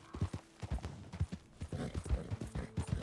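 Galloping horse hooves in a video game, a steady run of quick clip-clop beats under low game ambience, moderately loud throughout.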